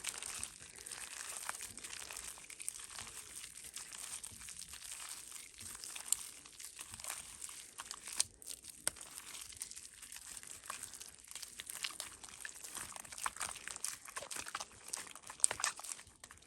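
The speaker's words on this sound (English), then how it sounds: "I'm gonna have to mix this up because it looks like it's kind of being weird right now." Clear slime made without glue being stirred and mixed, giving a steady stream of wet crinkling, squelching and crackling sounds, close and continuous with no talking.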